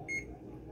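A single short electronic beep from a kitchen oven's control panel as the broil setting is pressed, a clear high tone over low room hum.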